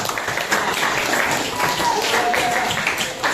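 Classroom students applauding together, a steady dense patter of clapping lasting a few seconds, with children's voices mixed in.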